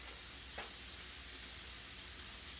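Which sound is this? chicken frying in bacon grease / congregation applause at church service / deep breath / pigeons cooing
chicken frying in bacon grease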